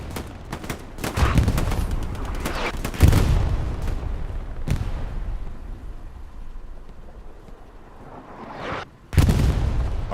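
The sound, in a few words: artillery fire in Hell Let Loose video game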